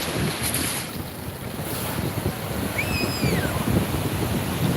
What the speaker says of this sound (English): these waves are getting crazy